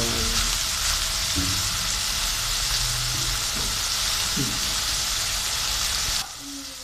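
Minced keema frying in a pan as it is stirred, a steady close sizzle with scraping and stirring knocks throughout, easing off sharply near the end.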